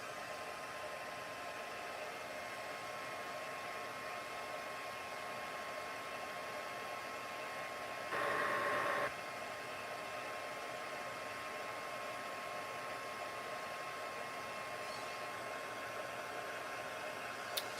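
Handheld dryer blowing steadily over glued paper for card making, a constant close whooshing hum with one brief louder surge midway.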